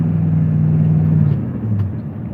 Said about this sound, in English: Got my truck in 4 low right now